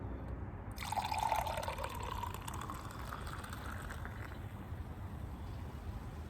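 Sparkling water splashes briefly into a glass, then settles into a soft, steady fizz of bubbles that continues quietly to the end.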